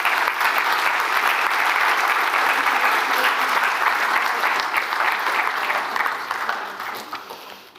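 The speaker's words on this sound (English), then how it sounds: "Let's give her a big clap." Audience applause at an awards ceremony, a dense, steady roar of clapping from a crowd that holds for several seconds and then tapers off toward the end.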